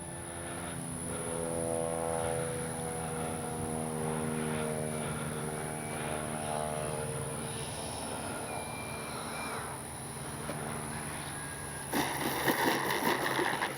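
A Freewing Yak 130 radio-controlled jet with a 70mm ducted fan comes in to land on grass. Its steady whine is faint and distant and shifts slightly in pitch, and a rougher rustle comes near the end.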